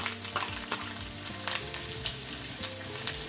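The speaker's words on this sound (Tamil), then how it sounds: "இதில் ஆயில் ஹீட் ஆன உடனே பொடி பொடியாக கட் பண்ணி வச்சிருக்க இஞ்சி போட்டுடலாம்." Finely chopped ginger sizzling and frying in a spoonful of hot oil for a spicy red momo chutney, a steady close crackle with occasional sharper pops and faint stirring, no voices.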